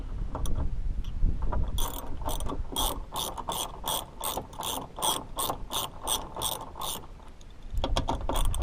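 A ratchet wrench spins 10mm bolts during a third-generation tow mirror install, giving rapid, close, evenly spaced clicking bursts in a steady run, with short pauses and quicker clicks at the end.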